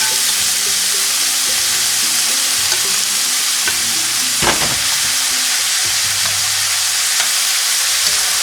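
Eggplant and onion mix sizzles loudly in a hot pan while a utensil stirs and scrapes through it, a constant crackling hiss up close.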